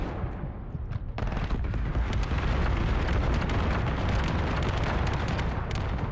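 Rocket explosions and heavy weapons fire in The First Descendant, a dense, continuous barrage of loud blasts and crackling detonations with no let-up across the whole stretch, no talk over it.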